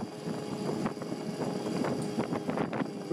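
1985 Yamaha QT50 moped coasting down a slight hill at half throttle with the rear brake disconnected, a steady buzzy engine drone heavily buffeted by wind noise, continuous and close.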